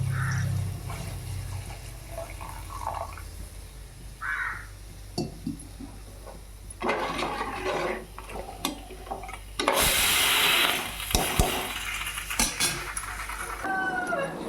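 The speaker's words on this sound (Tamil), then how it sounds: "மிக்சி ஜார் கழுவுன தண்ணி ஊற்றிடுறேன்" Rinse water from a mixer jar splashes and pours out in a steady rush into a pot for a few seconds, surrounded by clattering kitchen sounds and occasional bird calls in the background.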